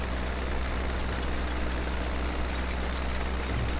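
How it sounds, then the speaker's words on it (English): A tractor engine in Farming Simulator 2017 labours steadily while pulling a cultivator up a slope, producing a continuous low, heavy drone that stays constant and close with no talk over it. "it is the engine which seems to struggle with the cultivator"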